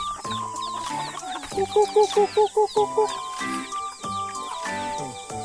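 Farm chickens cluck close by while a person calls to them with a run of short, rhythmic clucking sounds that imitate the birds.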